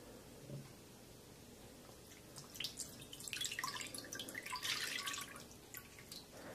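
Jello is poured over an iPhone 6s. Faint wet drips and soft squelching splatters build in the middle of the pour, quiet and close, with no talking.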